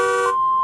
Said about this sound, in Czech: to je sanitka